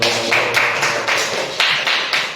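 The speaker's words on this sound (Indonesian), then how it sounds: "Sip, tepuk tangan dulu." Applause after a children's coding lesson, several bursts of hand claps repeating in a loose rhythm, fairly close and loud with no talk over them.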